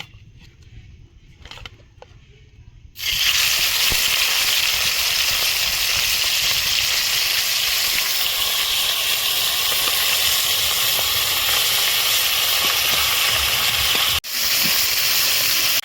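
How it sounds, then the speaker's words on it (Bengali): Fish dropped into hot mustard oil in a wok, bursting into a loud, steady hiss and sizzle that carries on unbroken, with one brief dip midway; no talking. "আমার তেলটা হিট হয়ে গেছে, এখন আমি মাছটা ছেড়ে দেব"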